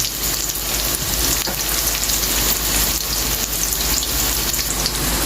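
Chicken pieces fry in a hot pan with reddish sautéed onions for adobong manok, giving a loud, steady sizzle and crackle that stays dense and unbroken throughout, with no talking.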